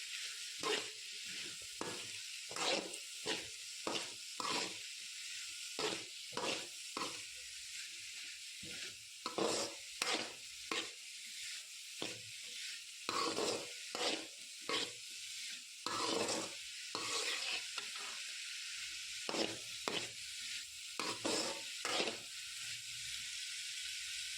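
Pickle spice mix with garlic frying in oil, a steady bright sizzle broken by repeated scraping stirs in an irregular rhythm, close and fairly quiet throughout.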